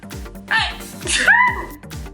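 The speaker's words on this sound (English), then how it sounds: "Oh, I need to sneeze." A single sharp sneeze bursts out over a low, steady background hum, with a brief breathy intake before it.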